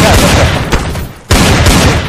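Dense gunfire from the first-person shooter Counter-Strike: Source on an Assault or Train map, loud and continuous bursts that cut out briefly before resuming at full volume.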